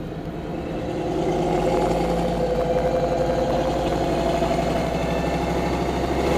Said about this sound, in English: Pretty obscene muscle car.